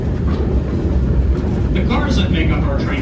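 Century-old passenger train cars built between 1914 and 1949 rolling on the rails of the New Hope Railroad excursion in Pennsylvania, a steady low rumble beneath someone talking.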